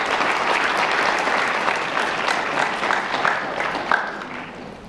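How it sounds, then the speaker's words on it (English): Audience applause in a school hall at a National Honor Society ceremony, steady sustained clapping from a large crowd that slowly tapers toward the end. "I would like the students to give their support systems a round of applause"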